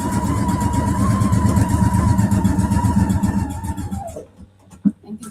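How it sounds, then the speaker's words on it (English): A Husqvarna Viking sewing machine stitches a quilt seam with a steady, loud motor whir and needle chatter that runs evenly, then winds down and stops, leaving a few faint clicks. "And continue sewing."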